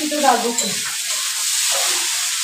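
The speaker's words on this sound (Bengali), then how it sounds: "এটা আলু ফুলকপি ভাজা হচ্ছে" Potato and cauliflower frying in a pan, a steady close hiss and sizzle with a brief stir at the start.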